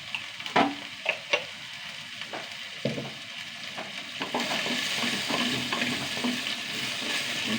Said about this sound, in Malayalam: ഈ വെണ്ടയ്ക്ക് നന്നായി വാടി വരട്ടേക്കാം